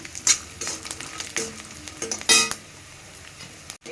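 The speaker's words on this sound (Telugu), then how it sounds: "కాజు ఫ్రై అయింది, పల్లీలు ఫ్రై అయినాయి." Cashews and peanuts fry in oil for a snack, giving close, uneven crackling sizzle broken by sharp scrapes and clinks of a spoon, one louder burst near the end, with no voices.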